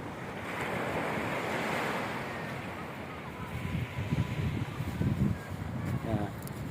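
Sea waves surge and wash onto General Nakar beach in Quezon, a continuous broadband roar with wind buffeting the microphone, building louder toward the end as surf breaks closer; a voice speaks faintly underneath.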